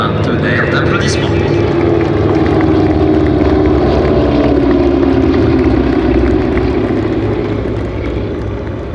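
Classic Swiss Formation of a Douglas DC-3 and two Beechcraft 18s flying past at the Air Legend 2023 airshow, a loud sustained piston-propeller drone that slowly fades, with a voice talking over it.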